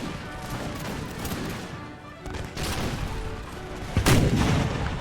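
Musket volleys and cannon fire in the Empire: Total War video game, Imperial Splendour mod, with dense crackling gunfire and heavy booms rolling continuously, a sharper loud blast near the end.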